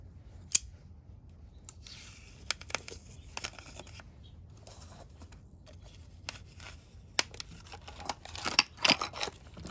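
Packaging for a cutoff wheel being opened: quiet scattered snips, crinkles and tearing taps, with a sharper cluster of crisp rustles near the end. No voices.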